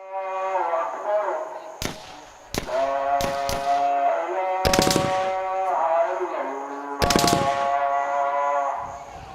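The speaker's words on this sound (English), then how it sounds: "Followed by repeated gunfire." Sharp gunshots crack repeatedly in Mogadishu, Somalia, some single and some in quick bursts, over a sustained chanting voice of the call to prayer in the background.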